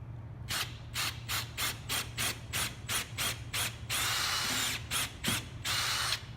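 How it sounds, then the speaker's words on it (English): A power drill bores a center hole in MDF in a rapid series of short, regular bursts, then runs longer continuous stretches, close and loud over a low background hum. "Drill this hole in the very center."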